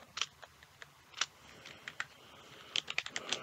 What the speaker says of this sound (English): I can not type